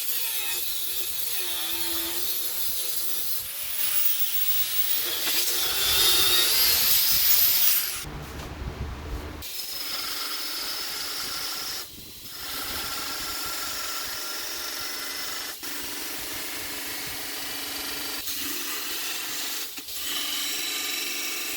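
An aggressive wire wheel scouring scale off copper, a continuous harsh rasping grind that swells, cuts out briefly, then resumes with intermittent scrapes, close and steady.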